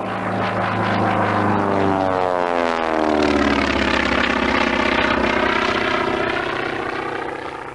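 A Supermarine S-6B racing seaplane, built for the Schneider Trophy race, roars past with its engine note sweeping downward like a Doppler pass, loud and steady throughout with no talk.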